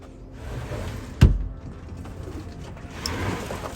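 Racing pigeons in a loft, soft low cooing with a single sharp knock or bump partway through, close and fairly quiet against a faint room background.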